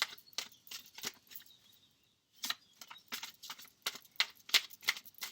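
Tarot cards are shuffled quietly, with quick irregular papery taps and riffles, a short pause, then more soft shuffling close by.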